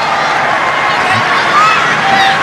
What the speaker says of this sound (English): Big cheer goes up from the Thai supporters.